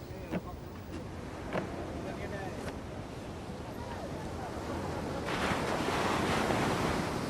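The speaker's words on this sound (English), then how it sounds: "To get off the beach, you've got to get through that surf, and that means picking the right wave" Ocean surf breaking on a beach of the Coromandel Coast, where log catamarans launch, a steady wash of waves with wind noise that swells louder toward the end, with occasional faint voices underneath.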